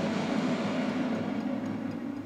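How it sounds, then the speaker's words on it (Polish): A tram rumbles past on a city street, a steady loud low roar and hum held throughout at close range, with no talk. "Tramwaj jedzie."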